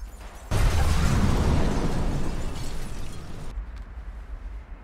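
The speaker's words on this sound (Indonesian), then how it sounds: "ketika ledakan terjadi" A sudden loud explosion bursts in, followed by a rumbling, crackling roar that slowly decays before cutting off.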